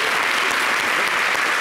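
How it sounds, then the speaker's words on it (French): Brief burst of dense, loud studio-audience clapping on a French-language TV talk show, steady and close throughout. "Applaudissez pour lui"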